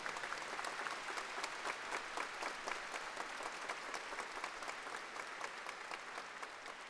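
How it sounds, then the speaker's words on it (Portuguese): A church congregation applauds warmly at an episcopal ordination Mass, steady dense clapping from many hands filling the space throughout. "E acolhemos Dom Luiz com uma salva de palmas."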